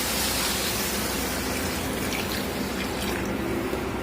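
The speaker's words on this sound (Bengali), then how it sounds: "আমি এখন এটার ভিতরে পানি দিয়ে দিব।" Water pours steadily into a cooking pan of boiled potatoes for an egg and potato curry, a continuous close splashing rush lasting about four seconds with no talking.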